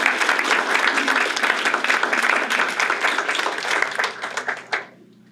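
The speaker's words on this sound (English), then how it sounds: "We can applaud for him" An audience at a talk applauds loudly in a dense, steady burst of many hands that carries on for several seconds, then tapers off and stops abruptly.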